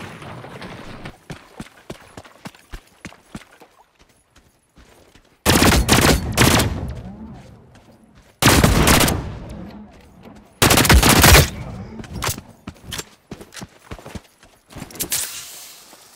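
Sniper gunfire in the video game The Cycle: Frontier, heard as three loud, sharp broadband bursts spaced a few seconds apart over quieter clicks and rustling movement.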